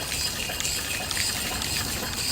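An antique Worthington steam pump feeds water into a boiler, giving a steady, close rush and gush of moving water that runs unbroken for the whole stretch with no voices.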